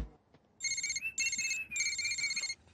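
A phone's electronic ringtone for an incoming call plays in three bursts of bright tonal pattern with short gaps between them, clear and fairly close in a quiet room, with no talking over it.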